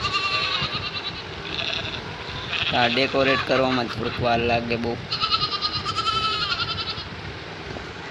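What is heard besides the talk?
goats and sheep bleating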